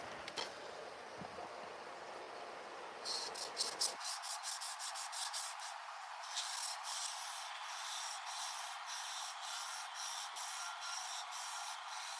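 A scandi-ground knife blade being sharpened on a whetstone, the back half of the edge worked with a run of quick rhythmic rasping strokes, then a longer even stretch of fainter continuous rubbing; close and fairly quiet, no talk.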